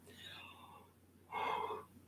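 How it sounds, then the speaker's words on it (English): A person yawning, with a soft drawn breath followed by a louder, breathy open-mouthed exhale, close and alone. "I apologize for the yawning."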